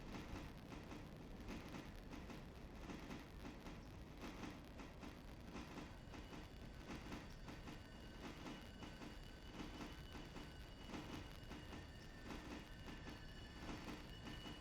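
A freight train rolls along steadily in the railroad simulation game Railroader, its wheels and cars giving a continuous rumbling clatter with faint squeals, quiet and unbroken throughout, no voices.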